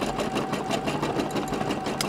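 A sewing machine stitches a circuit patch in multiple passes, running as a steady, rapid mechanical whir with a fine rhythmic needle chatter, close and continuous throughout.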